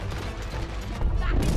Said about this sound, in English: May, I don't like their cannons.